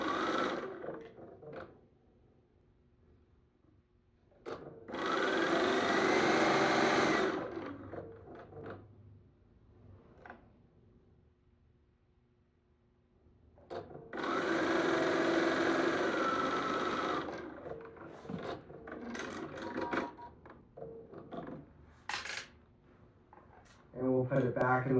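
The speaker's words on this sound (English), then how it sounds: "So we're going to sew the 1/4 inch." A sewing machine runs a quarter-inch seam through fabric in two steady whirring bursts of a few seconds each, close and loud, with a person talking in the quieter stretches between them.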